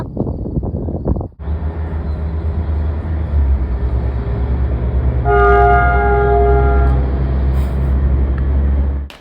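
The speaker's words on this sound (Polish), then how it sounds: "I uwaga, test syren kolejowych." 1980s air-powered railway siren being tested, sounding a loud sustained low tone that shifts to a higher, brighter tone partway through, close and dominant after a short burst of background noise at the start.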